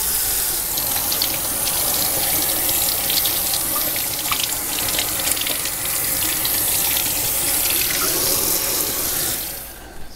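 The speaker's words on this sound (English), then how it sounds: "Cold water." Cold tap water runs steadily into a sink, washing homemade bacon in a 2.5 gallon bag, a continuous close splashing gush that cuts off near the end.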